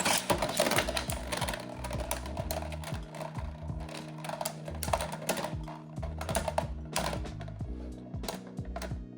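A Beyblade X Dransword spins against a Metal Burst Beyblade in an aggressive battle, producing rapid, loud metallic clattering and clicking collisions throughout.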